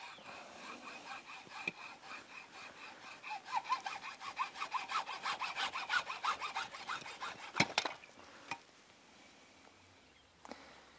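Hand saw cutting through an object in rapid back-and-forth strokes, rhythmic and fairly quiet, followed by a few sharp knocks and then near silence.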